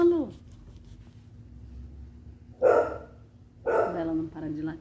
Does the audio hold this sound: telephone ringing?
no